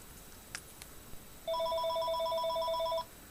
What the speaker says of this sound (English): Let me get this phone call.